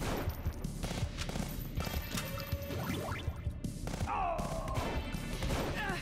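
An enemy fires in the side-scrolling action game Huntdown: scattered loud gunshots and impacts crack over busy game music and effects, close and percussive, with a brief whooshing sound near the end.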